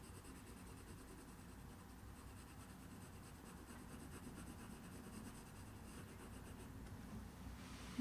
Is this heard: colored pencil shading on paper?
yes